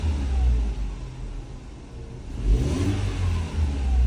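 A 2009 Mercedes W204 C180 with a lean mixture fault revs up from idle, a low engine rumble that swells in a couple of throttle blips and then settles, with no voices.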